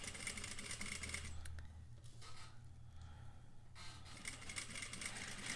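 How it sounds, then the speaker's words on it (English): A sewing machine runs steadily as it stitches a square facing with understitching, a faint continuous mechanical whir that eases briefly in the middle before picking back up, with no talk. "I can continue sewing"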